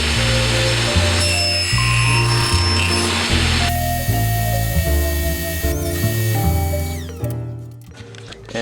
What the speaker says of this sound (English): I start by cutting the outer slots in the strips